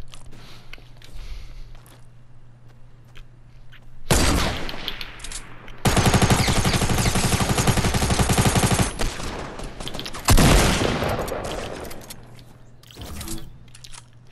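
Automatic gunfire in the video game Fortnite, rapid close bursts of shots in two long volleys and a few shorter ones, loud against quiet background hum.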